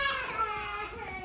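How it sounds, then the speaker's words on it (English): Children cry in short, high wavering wails during a Texas winter storm in 2021, fairly close and faint, with no talk. "And you can hear the kids crying."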